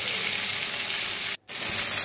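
Onions sizzle and fry in a pan with a steady close crackle, broken by one brief silent gap before the frying resumes.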